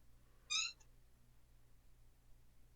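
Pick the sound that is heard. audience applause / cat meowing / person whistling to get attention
cat meowing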